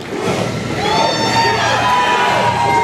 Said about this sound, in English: we've got the crowd here just going absolutely nuts post-match